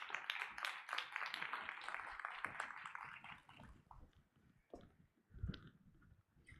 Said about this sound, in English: can we please give a round of applause for Advocate Taki as she joins us, please?